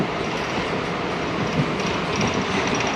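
Inside a nearly empty moving passenger train on a Hooghly route, a loud, steady rumble of wheels and carriage noise runs throughout, without talk.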